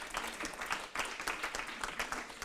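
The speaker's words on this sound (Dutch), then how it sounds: "Mag ik een applaus?" An audience applauds a guest called forward at a crowded evening event, with dense, steady clapping that stays moderately loud and continuous for the whole stretch.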